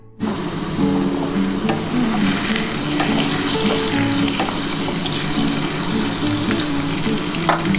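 A loud, steady sizzle rises from potatoes frying in hot oil, beginning abruptly and then holding a dense crackle with occasional sharp pops and light clinks.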